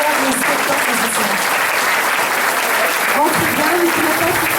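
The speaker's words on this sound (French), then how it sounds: "Je voudrais encore vous applaudir très très fort, merci beaucoup." Audience at a cabaret show applauding steadily and loudly throughout, a dense wash of hand claps with faint voices mixed into the crowd noise.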